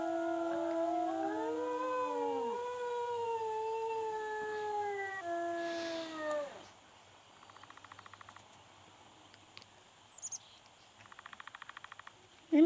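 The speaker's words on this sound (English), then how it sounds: "Let me howl. Gonna howl." A wolf in the WolfQuest game gives several long, rising and falling howls with voices overlapping. After about six seconds they stop and quieter game sounds and faint clicks follow.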